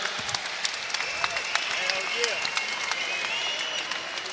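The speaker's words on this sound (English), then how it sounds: "a round of applause for both warriors, please" Arena audience applauding both boxers after a ten-round fight, a steady wash of clapping with scattered sharp claps and distant crowd voices.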